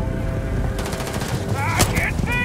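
Rapid automatic gunfire from the space video game Starfield, a burst of close, loud shots starting partway through with a sharp single report, set over background game music and effects.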